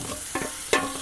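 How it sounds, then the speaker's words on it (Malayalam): Cooked chicken parts being stirred into a curry in a pan, a short gentle sizzle with two quick scraping strokes of the spoon, close up. "എന്നിട്ട് നമുക്ക് നന്നായിട്ടൊന്ന് ഇളക്കിയെടുക്കാം കേട്ടോ."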